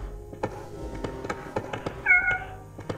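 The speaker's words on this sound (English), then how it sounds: "Can you open this door, cat? You magical?" A cat meows in the gyaru horror video game Kanpeki. One clear meow rises over soft game clicks and thumps, with no talking.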